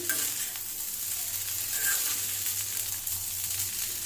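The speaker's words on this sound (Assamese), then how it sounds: "এতিয়া পাস্তা দিব পৰা হৈ গ'ল। মই দি দিওঁ।" Vegetable pasta frying in a pan over a low gas flame while being stirred, a steady close sizzle with soft scraping strokes, with no talking.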